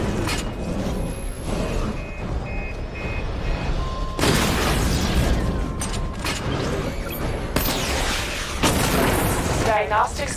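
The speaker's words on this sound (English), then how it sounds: "Missile barrage level 1 ready." Missile barrage explosions in the video game Batman: Arkham Knight, loud booming blasts and mechanical whirring with two sharp heavy bursts standing out, close and dense, under a voice talking.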